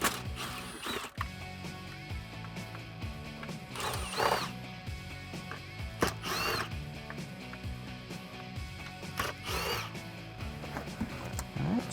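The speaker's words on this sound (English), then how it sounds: "I've got my 8mm socket on an extension on my impact gun. I'm gonna get those guys out." An impact gun with an 8mm socket on an extension buzzes and ratchets in repeated short bursts while removing console bolts from a 2009-2020 Dodge Challenger V8 Hemi, with mechanical clicks and rattling between bursts, close up.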